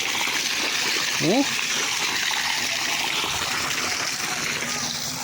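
Water gushes hard and steadily from a burst water pipe, a loud continuous rushing splash, with a man briefly exclaiming over it.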